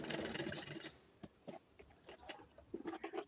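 A sewing machine stitches a folded edge of plastic sheet, running in short uneven bursts with pauses between, close and moderately quiet.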